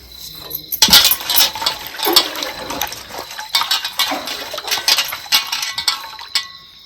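Roots being swished and rinsed in water, with splashing, sloshing and clinking against a vessel, continuous and close; no talking.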